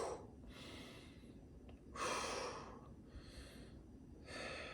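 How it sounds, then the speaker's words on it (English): A slow, deep breath drawn in and let out during a guided relaxation exercise, with soft airy inhales and exhales rising and falling in separate bursts, close and quiet with no talking. "Take a deep breath."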